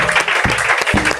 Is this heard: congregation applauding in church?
yes